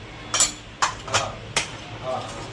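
A spoon scraping and clinking against a pan as garam masala, coriander-cumin powder and other spices are mixed into corn, with four or five sharp, close metallic knocks at an uneven pace.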